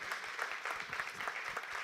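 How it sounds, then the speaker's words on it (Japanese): Audience applause in a hall at the closing session of a startup and business event, an even, moderately distant patter of many hands clapping with no voices. "この会場のみんなに拍手をお願いいたします"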